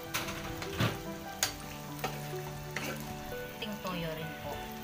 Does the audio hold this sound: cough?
no